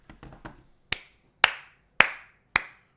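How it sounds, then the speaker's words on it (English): A few sharp, dry hand claps ring out alone: a quick, soft patter first, then four loud, evenly spaced single claps close to the listener. "Round of applause."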